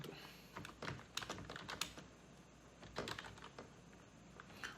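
Quiet clicking of fingers typing on a computer keyboard, irregular bursts of keystrokes with short pauses, close but soft over a faint room hiss, with no talking.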